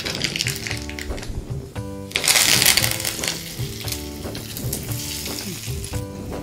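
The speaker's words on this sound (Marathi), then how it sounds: "मस्त तडतडली फोडणी घातली ना" A hot-oil tempering (phodni) crackles loudly up close, dense popping and sizzling with a sharp burst partway through, then continuing steady crackle with repeated short tonal clinks.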